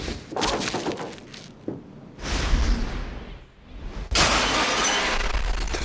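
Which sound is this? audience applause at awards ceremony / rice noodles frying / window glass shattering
window glass shattering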